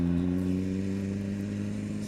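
A Honda CBR600RR motorcycle pulling away in first gear, a loud, close, steady engine drone with strong low harmonics lasting about two seconds.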